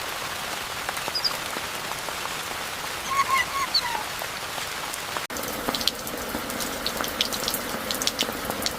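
Light drizzle falling on pavement in a quiet small-town street in the Brazilian Amazon, a soft steady hiss of fine drops with faint scattered patters and a few distant sounds, fairly quiet and continuous throughout.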